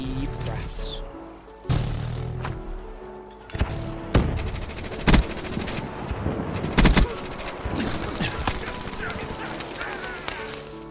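Bursts of gunfire from the Black Ops 4 video game, including shotgun blasts, crack out in separate loud shots and short clusters over a constant layer of game noise.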